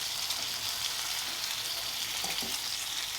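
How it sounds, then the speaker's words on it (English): Bacon sizzles steadily in a hot pan, a dense crackling hiss with tiny pops, close and continuous with no voices. "Don't you love the sound of that bacon sizzling?"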